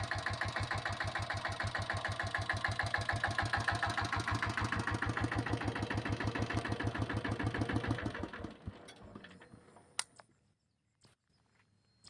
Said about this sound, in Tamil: வண்டி இன்ஜின் கண்டிஷன்லாம் கேட்டிருப்பீங்கன்னு நினைக்கிறேன்.